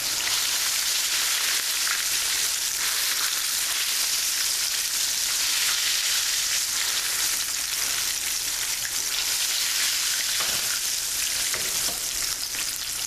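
Chicken fried steak fries in a pan of hot oil, a loud, steady crackling sizzle that keeps going close by, with no voices over it.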